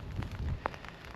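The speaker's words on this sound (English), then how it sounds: "it's raining and I'm getting soaked" Rain falls at a campsite at night, a soft steady patter on surfaces with one brief sharper drop or tap partway through, close by and fairly quiet, with no voices.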